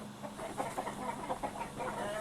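Pakoi chickens cluck steadily at close range in a poultry yard, a continuous layered murmur of several birds with repeated short clucks and no talking.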